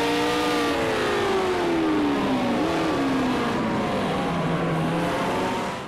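A Porsche Spider race car in a racing video game drones steadily at high revs, its engine pitch sliding down, briefly rising, then falling again as it shifts through a lap, loud and continuous with no talk.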